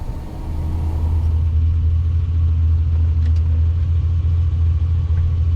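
A car engine hums with a deep, steady rumble while driving and picking up speed, loud and close throughout with no talking.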